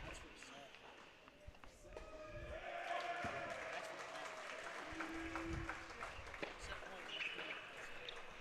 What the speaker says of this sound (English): See the claps there from the boys in blue alongside Baran